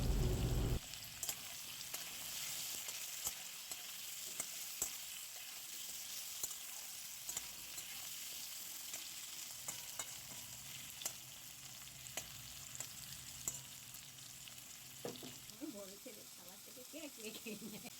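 Small diced potato pieces fry in oil with salt and turmeric, a low steady sizzle with scattered faint crackles and ticks that run continuously.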